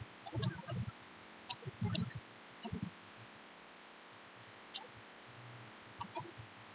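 Computer mouse clicks while copying and pasting, clustered quick clicks in small groups followed by a pause and a few isolated clicks against faint room hiss.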